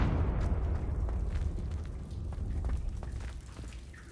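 Confringo fire spell blasting in the Hogwarts Legacy video game, a dense rumbling explosion with crackling debris that holds loud through the whole stretch and tails off slightly at the end, with no talking.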